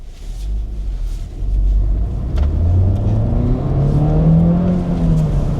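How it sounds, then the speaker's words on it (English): A Honda Civic Type R in comfort mode accelerates hard, its engine rumble rising steadily in pitch through a long held pull, loud and close with no talk over it. "I am having to hold that throttle a lot longer, and we'll see how this does."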